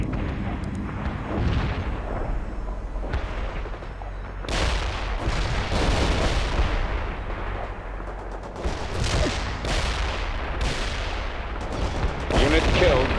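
Medium artillery fire in the strategy game World in Conflict, repeated heavy booms and blasts at irregular intervals over a rumbling battlefield, mixed with gunfire, with voices talking between the explosions.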